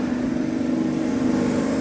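A three-phase electric motor on a winnowing machine (aerodynamic grain separator) hums continuously at an even pitch, loud and close, with no voices or changes in speed.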